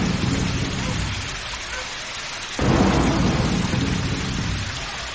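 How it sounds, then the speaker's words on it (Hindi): Heavy rain pours steadily while a deep rumble of thunder swells midway, loud and enveloping, with no clear talk. "आसमान में बिजली कड़कती है, मूसलाधार बारिश होती है।"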